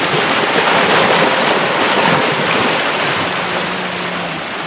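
Broad, steady rush of water flowing through a large canal running between open fields, loud and continuous with a soft hiss, easing slightly toward the end, no voices.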